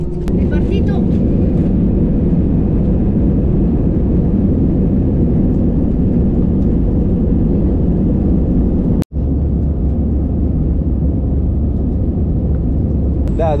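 Loud, steady jet engine roar and rumble from inside an airplane taking off along a long runway, continuous throughout with a brief dropout near the end.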